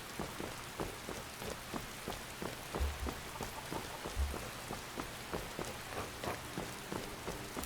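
Rain falls in the Skyrim video game, a steady, quiet patter of drops with small ticks and a couple of low soft thumps, continuous throughout with no voices.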